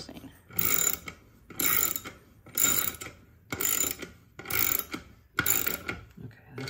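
A ratchet mechanism on a handmade wooden cradle clicks through six evenly spaced bursts, each a dense rattle of pawl clicks about a second long, with brief quiet gaps between them and no talk.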